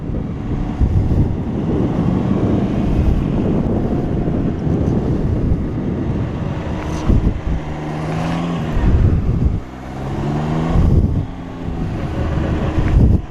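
A Can-Am Ryker 900 three-wheeler is ridden hard around a go-kart track, its engine revving and dropping through braking and corners under heavy, constant wind buffeting.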